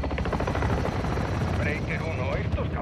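Helicopter in the Call of Duty: Modern Warfare II game, a loud close rotor drone thick with gunfire and explosions, continuous across the whole moment.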